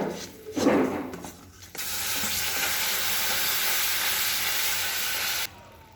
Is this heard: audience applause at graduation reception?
no